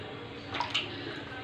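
Butter being washed by hand in cold water makes a soft, brief swish and splash against a low, quiet background.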